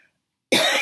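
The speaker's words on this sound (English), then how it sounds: "I do cough a lot anyway" A single sharp, loud cough bursts out after a half second of near silence and carries to the end, close to the listener.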